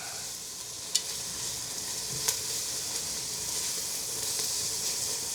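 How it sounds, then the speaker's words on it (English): Leeks being stirred into a pot of wild mushroom soup, a steady soft sizzle and hiss with a couple of brief scraping clinks of the spoon against the pot, close and fairly quiet, no voices. "All right, let's stir in."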